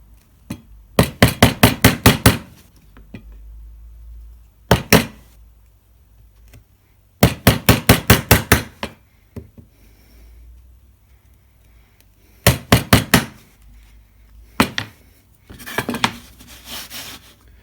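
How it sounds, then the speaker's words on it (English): A hand chisel pares a wood dovetail joint guided by a magnetic guide, giving quick bursts of sharp tapping cuts in rhythmic clusters with pauses between, close and fairly loud, no talking. "So I'm just going to creep up on this line with the chisel"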